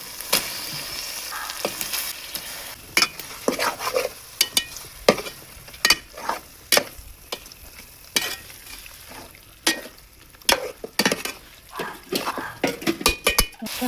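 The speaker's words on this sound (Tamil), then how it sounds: "இப்போ நான் இறைச்சி அதில் போட போகிறேன்." Chicken pieces fry in masala-infused oil in a pot for a village-style chicken kurma, crackling with a steady sizzle while a metal spoon repeatedly scrapes and clinks against the pot as it is stirred.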